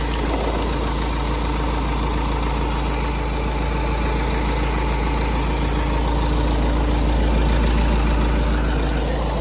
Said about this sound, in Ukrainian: Сам двигун працює рівненько